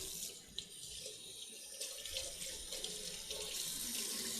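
A polishing pad is rinsed under a running sink tap, with water splashing and hissing steadily through the pad, close and continuous with small surges.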